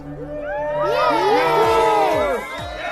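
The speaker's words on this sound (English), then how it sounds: "Bellowed the crowd as one, jubilant that the war was over." A crowd cheers jubilantly as one, loud overlapping shouts and whoops with rising and falling voices, swelling together and fading after a few seconds.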